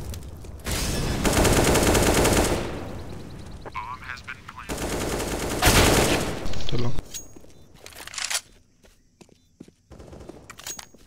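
Gunfire from CS:GO played on the Ancient map in a ranked 5v5 match, with bursts of rapid automatic shots between stretches of footsteps and quieter in-game movement, loud and close.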